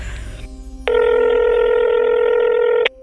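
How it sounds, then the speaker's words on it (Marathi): A telephone ringback tone sounds loud and steady for about two seconds after a brief stretch of faint background noise, then cuts off abruptly, heard alone with no talk. "थरथरत्या हातांनी माईंनी कारखानिसांना फोन लावला."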